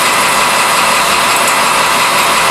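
Lagun milling machine drilling into a metal workpiece, a loud, steady broadband whir and hiss of the spindle and cutting running continuously without pause or speech.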